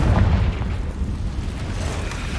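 A Confringo blasting spell explodes in the game Hogwarts Legacy inside a cave: a loud, dense low boom with a rumbling tail that stays heavy and noisy for a couple of seconds.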